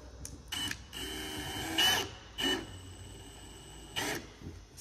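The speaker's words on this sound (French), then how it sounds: "n'hésite pas à visser dans la matière." Screw driven into a spa panel with a cordless screwdriver, heard as several short whirring bursts of varying length, close and fairly loud, separated by brief pauses over a steady low background hum.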